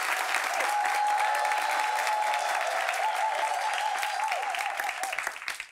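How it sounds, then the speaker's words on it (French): Audience applause at a talk show about mother tongues, a continuous roar of clapping with a sustained tonal whistle or cheer riding over it, fading toward the end. "Applaudissements pour vous-même, chers amis du public."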